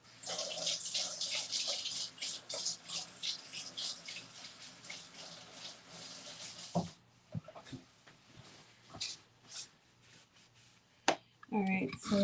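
Tap water runs into a kitchen sink while fruit is rinsed for breakfast, a steady broadband splashing for about seven seconds that then breaks into scattered drips, clinks and handling sounds, with talk near the end.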